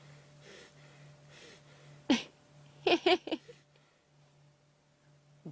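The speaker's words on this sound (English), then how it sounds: "every now and again they inhale the flies and have to have a bit of a sneezing fit to get rid of them" A lioness on safari sneezes after inhaling flies, a single sharp sneeze followed by a quick burst of snorting sneezes, heard close over a faint steady hum.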